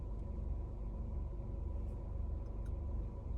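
A parked car's engine idles steadily: a low, continuous rumble that fills the space the whole time, with no voices over it.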